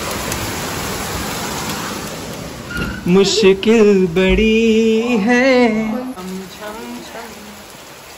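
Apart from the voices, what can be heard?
very heavy rain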